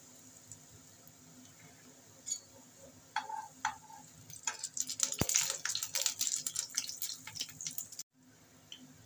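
Pointed gourds (potol) frying in hot oil in a pan over a lowered gas flame, scattered pops building into a steady crackling sizzle midway, then cutting off abruptly near the end.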